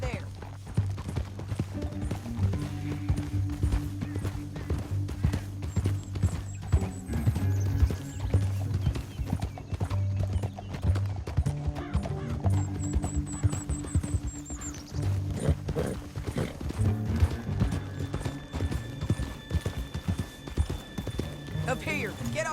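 In the Red Dead Redemption 2 video game, horse hooves clip-clop in a continuous rapid rhythm while riders travel, with a low rumble beneath, an occasional whinny and voices talking over the hoofbeats.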